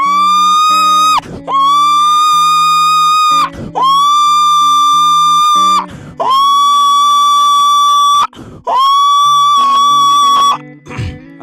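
A voice mimics a pig, producing four long, loud squealing cries broken by short grunting gaps, each squeal sustained for about two seconds.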